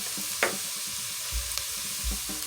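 Minced garlic sautes in a pot for creamy chicken noodle soup, a steady close sizzle with a couple of stirring scrapes and soft thumps from the utensil, no voices.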